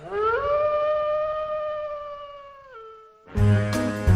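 A single long, sustained howl rises, holds, and dips at the end, then a sudden burst of loud music cuts in.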